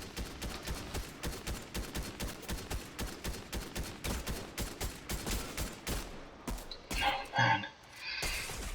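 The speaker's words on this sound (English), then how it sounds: "Man, I'm getting shot at quite badly here, aren't I?" Rapid Fortnite gunfire rattles in a steady, evenly spaced stream of shots at moderate loudness, then breaks into a different burst of noise near the end.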